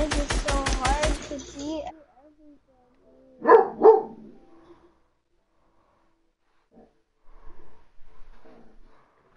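A dog gives two quick, close barks in a quiet room after someone has been talking, followed by softer, scattered noises and more faint voice later.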